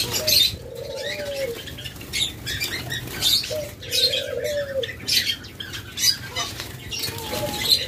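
Black doves and pigeons at a bird sale, soft repeated cooing mixed with brief wing flaps and rustling, close and continuous with no voices.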